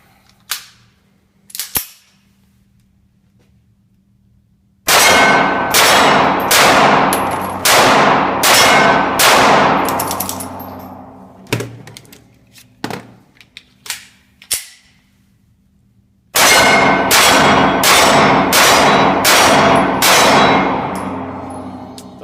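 Compact handguns such as a Glock 43, Kahr PM9, LCP and Glock 27 fire loud, sharp, close shots: a couple of single reports, then a fast string of about six, scattered shots with clinks, and another rapid string.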